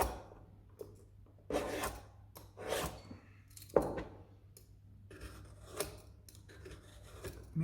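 A peeler strips the skin from a butternut squash in short, rasping strokes, a series of close, quiet scraping bursts with brief pauses between them. No one speaks.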